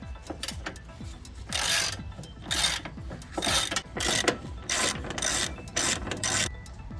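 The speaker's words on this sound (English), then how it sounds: "you're gonna loosen the grill at 3 separate points" Ratcheting wrench loosening the grille bolts on a Jeep Wrangler, close and fairly loud, with repeated bursts of rapid pawl clicking separated by short pauses and faint metallic handling.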